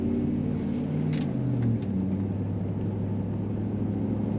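A 2003 Chevrolet Silverado 1500 Stepside LS 4x4 pickup engine accelerating on the road, a steady low hum whose pitch shifts as the gears change, heard from inside the cab with no talk.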